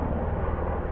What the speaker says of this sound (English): Looks like it's a military helicopter flying above me right now.